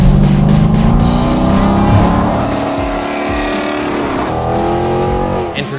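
A Dodge Durango with a 5.7 engine and new headers and exhaust roars loud and close as it revs and accelerates, with a rising engine note. The sound fades slightly as the vehicle pulls away. No talking.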